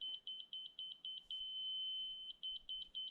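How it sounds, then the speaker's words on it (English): A laser level receiver beeps rapidly at a steady fast rhythm, shifting into one long continuous tone, then returning to quick beeps. "The faster the beep, the closer you are."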